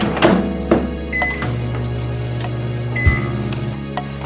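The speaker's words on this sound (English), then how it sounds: "Next you're going to put this in the microwave and you're going to nuke it for at least a minute or until the cheese melts." A microwave oven melting cheese on lentil fries hums with a steady low drone, broken by a few clicks and a brief beep near the start and again midway.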